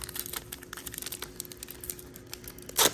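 A Shimmering Skies Lorcana booster pack wrapper crinkles close by in the hands with light, scattered rustles. It ends in one sharp, loud rip as the foil tears open.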